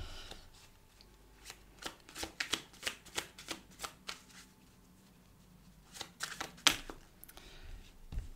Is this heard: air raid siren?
no